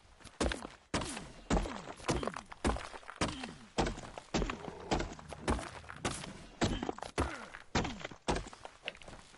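Repeated hard thunks from harvesting stone in the video game Ark come in a steady rhythm, about a dozen sharp impacts spaced roughly evenly, loud and close.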